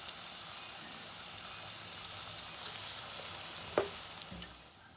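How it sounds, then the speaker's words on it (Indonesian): Oncom, a fermented soybean cake, sizzles steadily in hot oil for crisp frying, a dense crackling hiss with a brief clatter near the end before it quiets down. "Nah digoreng heula nya."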